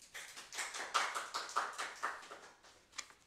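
A church congregation at a Sunday service claps together in a brief, moderately distant burst of applause, with the claps rising and falling in uneven pulses before trailing off.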